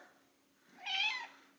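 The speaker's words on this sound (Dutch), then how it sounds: "Kan je een Siberische Poes nooit alleen laten?" A Siberian cat gives a single soft, drawn-out meow indoors, faint against a quiet background hum.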